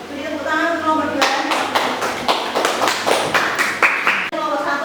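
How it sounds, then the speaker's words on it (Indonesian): A classroom group claps for group 2, a burst of many hands clapping in uneven rhythm for about three seconds, with talking just before and as the applause fades. "Beri tepuk tangan untuk kelompok 2."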